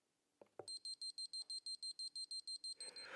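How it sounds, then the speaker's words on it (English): A wood moisture meter set to alarm when wood is above 9% moisture gives a rapid run of about a dozen even, high electronic beeps after a couple of soft knocks, heard up close and fairly clear. "I don't know if you can hear this beeping."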